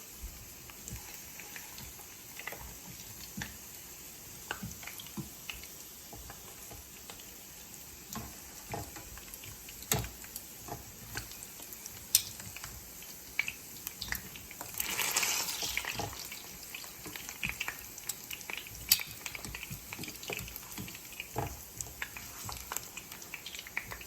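Plantains frying in oil in a pot, a steady crackling sizzle heard alone at close range, with some louder bursts of spattering and clatter around the middle.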